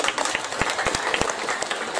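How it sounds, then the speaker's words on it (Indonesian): Audience applause at a Balinese drama gong performance: a dense crowd clapping continuously, with individual sharp claps standing out near the front. "Tepuk tangan dulu,"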